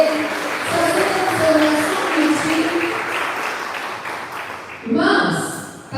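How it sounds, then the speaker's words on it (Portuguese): A church congregation gives a round of applause during a Sunday evening Quadrangular service, steady clapping under a voice that talks over it, easing off toward the end before louder speech breaks in. "Dá uma salva de palmas a Ele."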